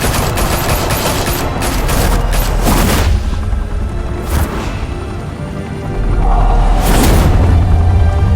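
Gunfire in a Batman video game: loud, dense bursts of shots and booms rolling through in waves, easing briefly midway before rising again.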